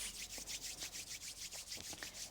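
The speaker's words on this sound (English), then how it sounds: "start to rub the palms of the hands" Palms of the hands rubbed together in steady rhythmic strokes, about a dozen brisk swishing passes, close and even, with no talking, in a quiet morning yoga stretch session.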